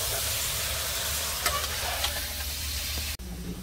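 Duck curry masala frying in a pan, a dense close sizzle with a couple of spoon scrapes, cutting off abruptly near the end to a quieter low hum.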